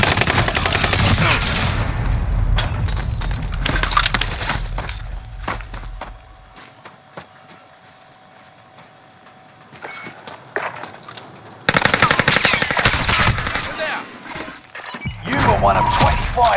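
Bursts of gunfire in the Call of Duty Warzone battle royale on the Caldera map, loud rapid volleys and single shots early and late with a quieter lull between, plus a tone and clatter.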